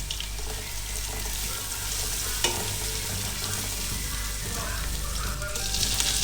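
Green chilies fry in a pan with a steady, close sizzle and a few crackles and stirring scrapes. Running water adds a faint background wash, and no voices are heard.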